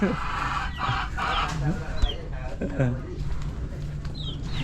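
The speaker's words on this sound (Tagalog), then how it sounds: "meron din silang alagang mga manok dito" Native chickens cluck and squawk nearby in short bursts while people talk over them outdoors at a construction site.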